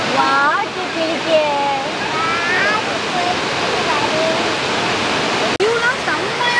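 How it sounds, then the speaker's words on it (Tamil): A waterfall pours down in a steady, loud broadband rush, with voices talking and calling out over the constant roar of the falling water. "எவ்வளவு கொட்டதா அருவி, செம்மையா இருக்குல்ல."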